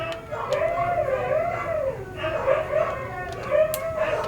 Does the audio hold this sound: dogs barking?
yes